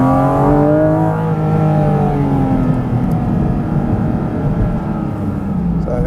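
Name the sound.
Porsche 718 Cayman GT4 RS naturally aspirated engine accelerating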